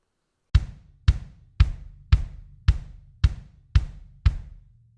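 Metronome set to 115 beats per minute, ticking eight sharp, evenly spaced clicks after a short silence, each with a quick decay, clear and close with nothing else sounding.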